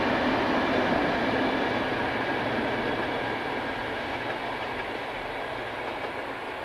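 Locomotive 219159 hauls a train from Saalfeld past steadily and loudly with a broad rushing roar and faint rhythmic clatter of wheels, gradually easing slightly toward the end.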